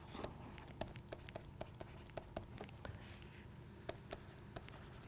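A lecturer writes equations on a board, producing a steady series of sharp, close taps and short strokes in an irregular rhythm over quiet room noise.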